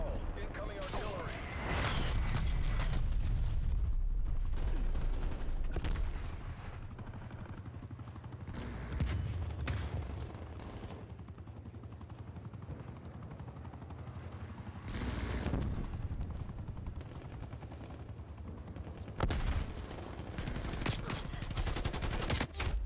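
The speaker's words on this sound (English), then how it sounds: "Incoming artillery." An incoming artillery strike in Call of Duty: Black Ops Cold War, bursts of rapid gunfire and heavy booming blasts in loud waves, with a helicopter-like drone and game voice announcements over the action.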